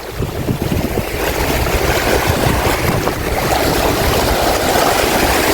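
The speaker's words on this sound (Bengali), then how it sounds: "আজকেও পানির অনেক ঢেউ" Sea waves washing against a rocky shore with gusting wind buffeting the microphone, a continuous rough roar with surging swells, no voices.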